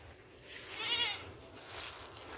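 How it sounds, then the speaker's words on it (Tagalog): A goat bleats once on a farm among mango trees in Guimaras. The wavering cry is faint and distant over a quiet outdoor hiss. "Yung mga kambing ko."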